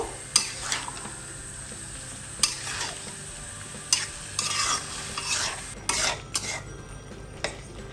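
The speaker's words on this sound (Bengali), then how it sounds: "দিয়ে আমি এখন ভালো মতো করে নাড়াচাড়া দিব।" Chalta (elephant apple) pickle cooking with jaggery in a pan is stirred in close, loud scraping strokes, with metal clinks against the pan over a low sizzle at an irregular rhythm.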